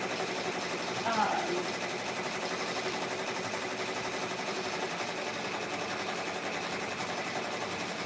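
A domestic sewing machine hums steadily at a low level during a home work session on handmade Etsy orders, a constant mechanical whir with a brief faint clatter near the start.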